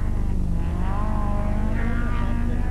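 Rally cars, a Ford Sierra and a BMW M3, race past at the 1987 Ypres 24 Hours rally with a loud, continuous engine roar and rising revs that stay close and dominant throughout, with no voices.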